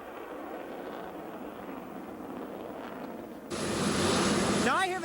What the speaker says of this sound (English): some razzle-dazzle in the sky by the F-14s